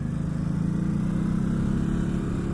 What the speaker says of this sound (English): It has that Ducati burble because this engine has the 90-degree L-twin.